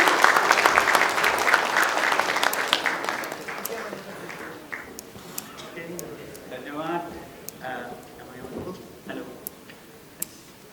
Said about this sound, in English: Let us welcome him with a huge round of applause as he makes his way to the stage.